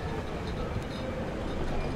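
Train carriage rolling along in the video game DARQ, a dense, steady low rumble with constant rattling texture throughout, no clear breaks.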